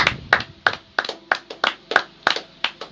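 A church congregation claps in steady rhythm for the glory of Jesus: about ten crisp, close claps in under three seconds, evenly spaced, with no voices.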